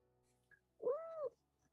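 A single short cat meow, faint and brief, rising and falling in pitch over a quiet background.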